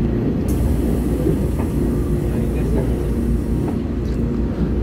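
A nine-car EMU1200 Tze-Chiang express train on Taiwan's Western Line runs through a station, producing a loud, continuous close rumble of wheels and rails with faint clicks throughout.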